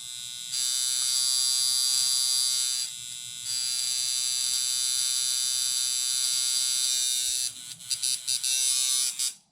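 A coil tattoo machine runs with no load at about 3.6 volts, a loud steady electric buzz that holds for several seconds, drops out briefly, resumes and then stutters in short bursts near the end.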